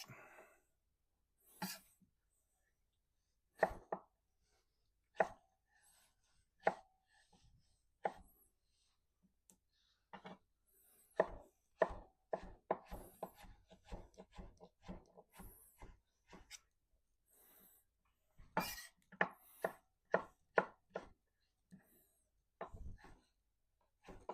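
A knife cuts mango on a cutting board, sparse irregular taps and chops at first, then quicker clusters of cuts, with quiet gaps between them.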